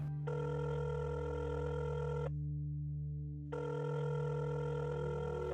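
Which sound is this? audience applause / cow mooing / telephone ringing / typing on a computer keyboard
telephone ringing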